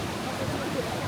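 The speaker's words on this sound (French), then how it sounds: "avec les vagues et tout, et l'eau qui vient directement frapper les roches" Sea waves break against rocks beside a temple on the Busan coast in South Korea, a steady broadband rush of surf at moderate distance.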